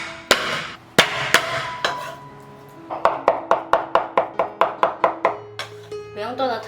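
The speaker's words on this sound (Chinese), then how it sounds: "虾肉拍扁，再稍微剁碎" Flattened peeled shrimp meat being chopped with a cleaver on a board: a few heavy separate whacks, then a fast even run of about a dozen sharp chops, close and loud.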